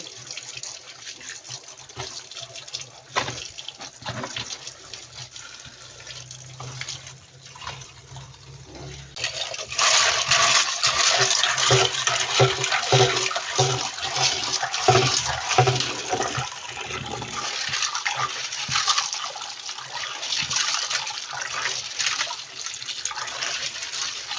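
Cooking ingredients are washed under running water, a continuous splashing stream that grows louder and fuller partway through, with handling noises mixed in and no voices.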